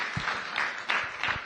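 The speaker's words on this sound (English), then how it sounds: "let's give them a nice round of applause for our veterans" An audience of former military and veterans is given a round of applause at a COP 28 senators' panel, a brief continuous burst of mixed clapping from a crowd in the hall, steady and moderately loud.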